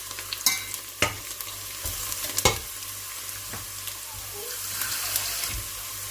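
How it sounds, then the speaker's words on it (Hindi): Whole spices for pulao fry faintly sizzling in a hot pan while a utensil stirs and scrapes, with a few sharp clinks against the metal. "इनको भी साथ ही भूनेंगे जस्ट 30 सेकंड के लिए।"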